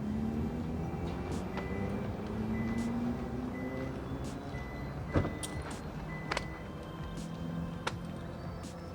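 The power tailgate of a new Hyundai Santa Fe seven-seater opens with a steady low motor drone, accompanied by faint beeps and a few sharp latch clicks.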